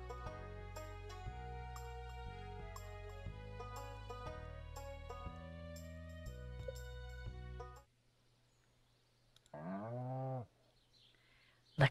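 A cow moos once in Stardew Valley, a loud, drawn-out call with rising and falling harmonics after a cheerful melodic tune ends, followed by a short soft click.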